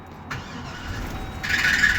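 A 2007 Chevy Express van engine cranks steadily in a no-start condition, with a whirring starter and a rising high-pitched whine toward the end; it never catches and runs.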